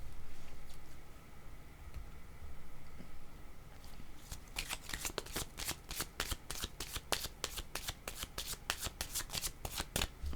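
A deck of cards shuffled for a card reading: after a quiet few seconds, a rapid run of crisp, close riffling flutters and snaps continues steadily, with no talking.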